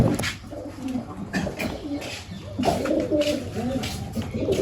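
Pigeons coo in soft, repeated throaty phrases close by, a gentle overlapping burble from several birds, with a faint voice in the background.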